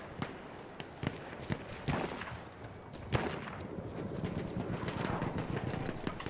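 Rifle gunfire in the WWI shooter Verdun, sharp cracks at irregular intervals, some close and loud, others more distant, over a busy battlefield rumble of background combat noise.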